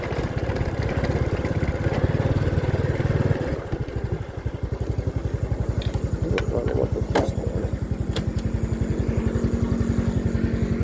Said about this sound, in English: make sure I don't drop the bike here because I'm driving with one hand